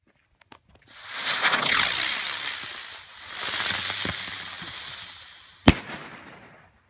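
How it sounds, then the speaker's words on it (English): Buzz Bang flying novelty firework shrieking and whizzing as it launches, a loud sizzling buzz that fades and swells, then ends in one sharp bang near the end, with no talking. "we have a fun flying novelty item called Buzz Bang"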